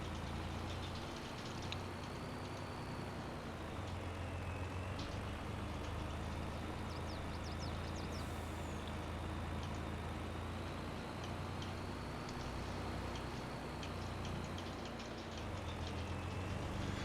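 A Volvo truck engine idles steadily in a video game set in Silverrun Forest, giving a low, even rumble with faint clicks and a soft whine above it, and no talking.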